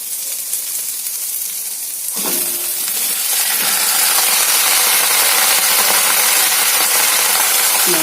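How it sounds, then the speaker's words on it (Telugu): Pieces of bottle gourd go into a hot pan and start frying, setting off a sudden loud sizzle that holds steady and strong with light stirring noises, with no talking. "ఇప్పుడు ఆనపకాయ ముక్కలన్నీ కూడా వేసేస్తున్నాం ఫ్రెండ్స్."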